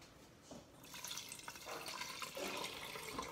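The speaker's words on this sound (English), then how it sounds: "Filling up the water over there" Tap water runs into a Pyrex glass measuring cup in a kitchen, a faint, steady gush that swells slightly as it fills, heard alone.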